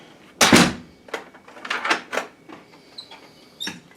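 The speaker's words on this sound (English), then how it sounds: "Hang on, I gotta lock the door first." A hotel guest room door at a DoubleTree suite is locked from inside, with a sharp thunk of the latch followed by several softer clicks and rattles of the lock and handle, close by.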